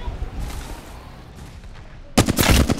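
Gunfire in the video game Apex Legends erupts as a loud, close volley of rapid shots in the last moments, after quieter in-game ambience with muffled combat sounds.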